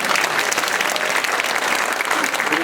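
A church congregation breaks into applause during a sermon, a dense, even wash of clapping that carries steadily throughout.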